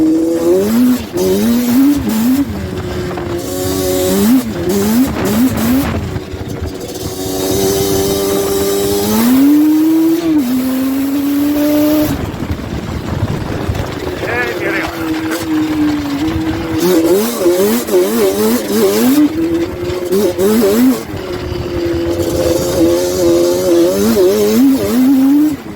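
A Yamaha Banshee ATV rips through snow on a trail, its loud two-stroke engine revving hard and shifting up through the gears, pitch climbing and dropping with each throttle burst and briefly easing off before screaming again.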